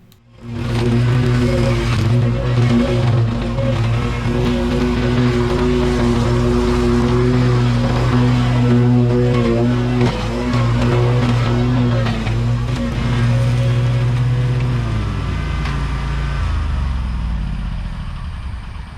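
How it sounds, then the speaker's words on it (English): A stump grinder's engine runs steadily and loudly, with a strong low hum and rough mechanical roar that holds for most of the stretch before winding down near the end. "Oh, you didn't know it was a stump grinder."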